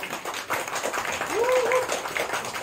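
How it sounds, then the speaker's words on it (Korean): An audience at a company workshop held at a hanok guesthouse applauds an acoustic guitar band, a dense patter of many hands clapping steadily throughout, mixed with voices. "박수 한번 주세요."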